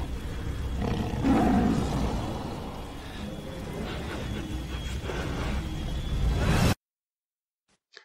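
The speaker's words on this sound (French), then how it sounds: "Le tigre à dents de sabre, ou plus précisément, un smilodon." A saber-toothed tiger, or smilodon, roars as a sound effect, a loud, close, rumbling growl lasting several seconds that rises and swells before cutting off abruptly into silence.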